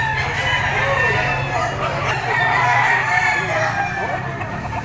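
Gamefowl stags and roosters at a Caloocan fowl sale crow repeatedly in a noisy, crowded setting, their calls overlapping with steady background chatter and clucking throughout.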